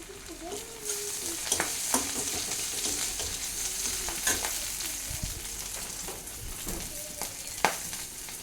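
Sliced onion and a bay leaf frying in oil in a pan for a Bengali fish and vegetable curry, a soft steady sizzle with occasional stirring scrapes and light clinks, fairly quiet.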